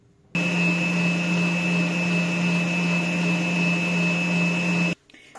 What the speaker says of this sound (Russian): Вот до такого состояния я взбила сливки.